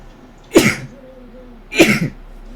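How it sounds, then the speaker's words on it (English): Two sharp sneezes about a second apart, close and loud, each a quick burst of breath against a faint steady hum. "Didn't mean to sneeze."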